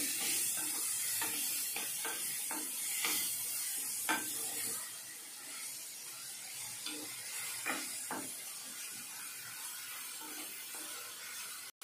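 Ridge gourd with garlic and asafoetida cooks in a pan, giving a steady close sizzle broken by intermittent scraping clicks of stirring. No one talks.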